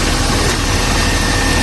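A Mercedes S300 engine idles after a new alternator and pulley were fitted, giving a steady, even hum with no knocking or squeal, close by and alone with no voices.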